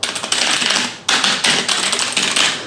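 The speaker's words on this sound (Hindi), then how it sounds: "सो यू कैन से ये कंप्लीट मैकेनिकल क्लिक के साथ आता है, और क्लिक की साउंड इसका काफी क्लियर एंड क्रिस्प है।" Rapid, crisp clicking from a budget RGB mechanical keyboard with blue switches, each keystroke a sharp, close tap in steady bursts with brief pauses and no voices.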